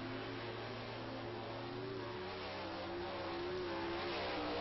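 A dirt track race car laps Knoxville Raceway with a steady, loud engine roar that holds a droning pitch and drops slightly partway through, with no voices heard.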